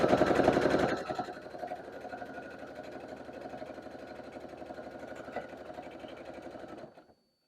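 A sewing machine stitches an apron in a rapid, steady mechanical rattle, louder at first and then running evenly for several seconds before stopping, close up with no talk.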